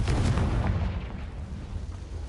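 A Confringo blasting curse from Harry Potter goes off as a loud, close explosion with a heavy low boom that rolls and fades over about two seconds, with no talking.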